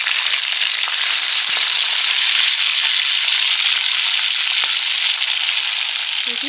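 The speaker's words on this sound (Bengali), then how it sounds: "তো দেখো তেলটা গরম হয়ে গেছে, এবার আমি এই যে পেঁয়াজ কলিগুলো দিয়ে দেবো আগে" Onion stalks hit hot oil in a pan and fry with a loud, steady close-up hiss that holds unbroken for several seconds, with a few soft stirring taps.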